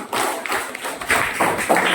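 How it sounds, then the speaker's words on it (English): Classmates clap briefly for a student in a school classroom, a short burst of scattered hand claps and taps fairly close, mixed with light background murmur. "so please clap for her"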